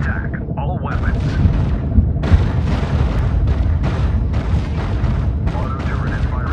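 Space battle in a video game, with continuous booming weapons fire and explosions rolling loud and dense throughout, broken by a few brief synthetic tones.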